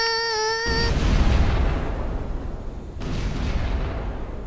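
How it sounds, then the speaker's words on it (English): A rumbling video game explosion roars out after a brief tonal sound, followed by a second blast with sustained low booming. "all I hear is just explosions going on above my head."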